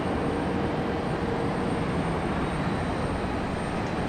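A Sun Country Airlines airliner at Raleigh-Durham International passes with a steady, broad jet roar, loud and unbroken throughout, with no voices over it.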